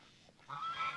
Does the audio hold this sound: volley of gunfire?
no